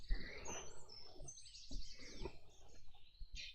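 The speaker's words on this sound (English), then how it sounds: "It's mostly just birds." Soft bird chirps and tweets scattered through a quiet outdoor setting, faint and intermittent.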